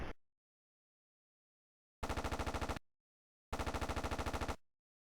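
Corsair wing machine guns fire in the flight combat game Aces High, two sharp, loud bursts of rapid, evenly spaced shots, the second a little longer, separated by silence.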